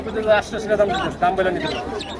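Pigeons, including racing pigeons, call and coo amid a crowd's busy chatter at a bird market in Hemayetpur, Savar, with voices talking close by throughout.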